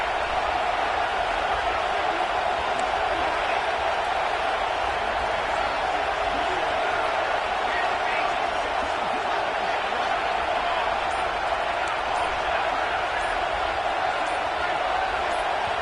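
Steady, loud roar of a stadium crowd at a football game on fourth down, a continuous wall of cheering and noise running unbroken throughout with no distinct individual voices standing out.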